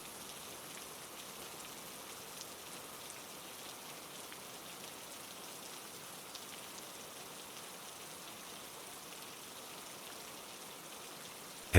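Steady rain falls in an even, continuous hiss with faint scattered drops, moderately soft and unbroken, with no voices.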